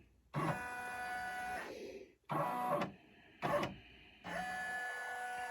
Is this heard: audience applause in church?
no